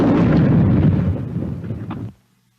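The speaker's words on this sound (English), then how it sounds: "a terrific backblast of flame when the rocket's fired" A bazooka rocket launches with a loud, roaring whoosh of backblast that fills the air for about two seconds, then cuts off abruptly into near silence.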